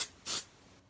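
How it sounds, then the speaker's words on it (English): A short, sharp burst of aerosol hair spray onto wavy hair lasts a fraction of a second, hissing close to the microphone and then cutting off into quiet room tone. "I'm gonna spray on this bottom half"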